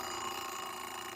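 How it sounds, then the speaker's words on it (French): Alarm clock ringing inside a glass bell jar, a steady, fairly faint continuous metallic ring with no breaks. "L'expérience classique, c'est de mettre un réveil qui sonne dans la cloche."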